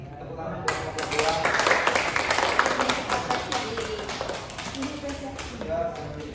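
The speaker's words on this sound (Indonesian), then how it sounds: "Tepuk tangan buat kelompok 2" A classroom group claps for a student team after a microteaching end-of-semester exam presentation, a sustained round of scattered clapping lasting several seconds with murmured voices underneath.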